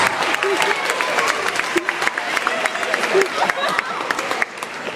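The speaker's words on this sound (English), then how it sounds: "Nice round of applause right here, folks" Audience applauding at a hypnotist show in a Lincoln High School setting: steady, dense clapping from a crowd for five seconds, with scattered sharper claps and faint voices mixed in, easing slightly near the end.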